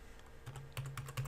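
Keys clatter on a computer keyboard as a ping command is typed into a command prompt, a short burst of close, crisp clicks with no talking.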